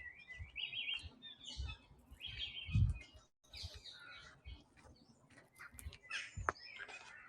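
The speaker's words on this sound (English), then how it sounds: "There's some crows and jackdaws shouting overhead as well." Crows and jackdaws calling overhead in Perivale Wood, with scattered chirping and harsh calls against faint woodland background and a few soft rustles and thumps nearby.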